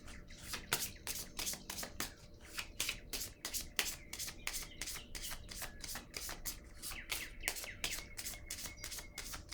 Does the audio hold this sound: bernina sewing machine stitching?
no